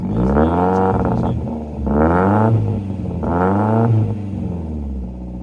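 A BMW Compact four-cylinder with an adapted exhaust from a 318 is revved three times in quick succession, each rise a loud, close roar with strong low harmonics, dropping back to idle between blips.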